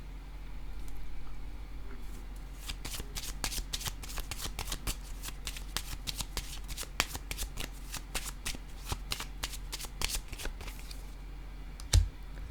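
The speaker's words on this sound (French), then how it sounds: "je ressens le besoin de déposer une carte ici entre les deux" Tarot cards handled on a table, giving a rapid, irregular run of crisp flicking clicks close by over a low steady background hum, ending with one sharp tap.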